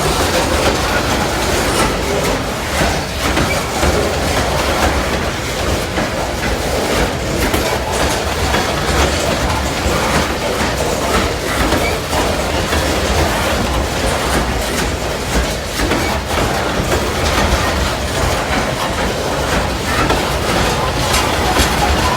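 A loaded coal freight train rolls past close by, a continuous dense rumble with rhythmic clickety-clack of wheels over rail joints and faint flange squeal, steady and loud throughout with no talking.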